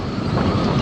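Strong harbour wind of around 65 knots buffets the microphone in a dense, roaring rush, loud and unbroken for under a second.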